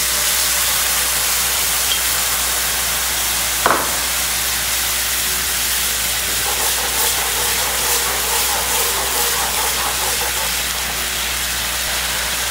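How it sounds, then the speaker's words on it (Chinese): Stir-fry sauce for black pepper beef coming to a boil in a wok, a steady steamy hiss with one sharp clack midway and soft bubbling crackle building later, no talk. "炒汁煮滚了以后"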